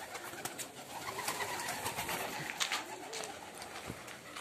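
Homing pigeons coo softly in a loft, with repeated low throaty calls amid faint rustling and background hiss.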